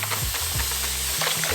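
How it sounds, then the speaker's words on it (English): Hiss of a spray bottle misting water onto air-dried curly hair, a broad steady spray running through the whole short moment, close and fairly loud, with no talking. "I am just going to wet that down now with my spray bottle."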